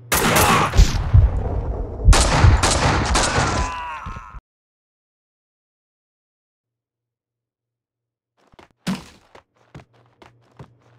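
Gunfire in the video game Max Payne 2: a dense, loud burst of overlapping shots and impacts for several seconds, then silence, then a handful of sharper, fainter isolated cracks spaced apart near the end.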